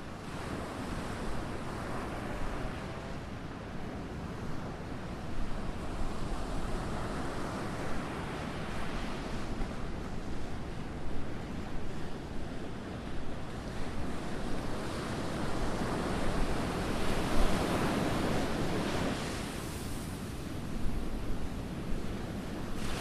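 Ocean surf and gusting wind roll on steadily for the whole stretch, waves swelling and breaking in broad washes with a loud, continuous roar and no voices.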